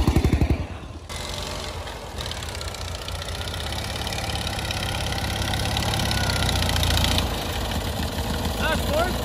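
An ATV fitted with snow tracks grinds through deep snow, its mid-pitched engine droning steadily and rising slightly in strain, while someone talks over it.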